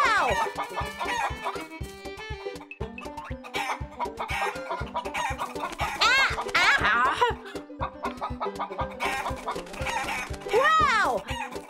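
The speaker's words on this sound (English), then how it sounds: "Come here, chicken!" Animated chickens cluck and a rooster crows in a cartoon, the bird calls rising repeatedly over busy, bright background music with no clear speech.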